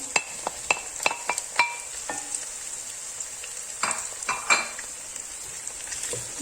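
Meat sautés with onions in a pan, a soft continuous sizzle punctuated by sharp metallic clinks and taps of a utensil stirring against the pan, close up and without speech.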